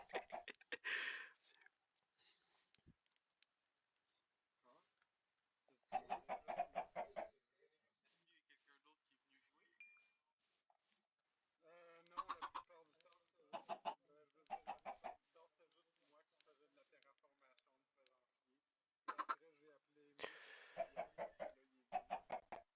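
Chickens cluck in bursts in a Minecraft game, several short bouts of clucking spread across the span, near and fairly loud.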